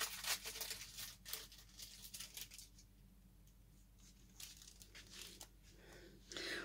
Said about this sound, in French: Alors, je déballe.